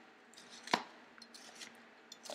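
A knife chops through onion on a chopping board in a home kitchen, giving one sharp, close knock followed by several lighter, scattered taps against the board.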